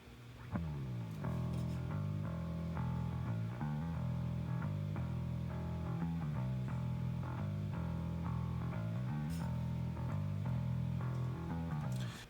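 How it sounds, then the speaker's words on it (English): A clean bass guitar plays a steady line of plucked notes with a dry tone, repeating a riff alone and upfront for the length of the passage. "The clean bass sounds something like this."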